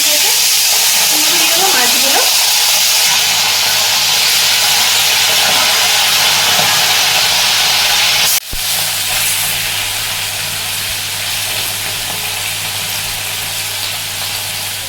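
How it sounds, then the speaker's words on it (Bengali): Khoyra fish fry in hot white oil with a loud, continuous close hiss and sizzle, then a sharp clatter and a slightly softer sizzle afterward. "মাছগুলো আমাদের ভাজা হয়ে গেছে"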